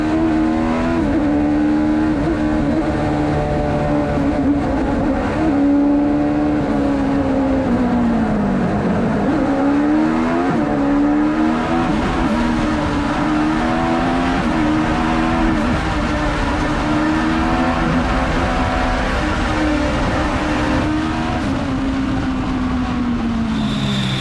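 An Alfa race car powers up the Mount Washington hill climb road, its engine note loud and continuous throughout, rising and falling as it shifts and works through bends, with no talk over it.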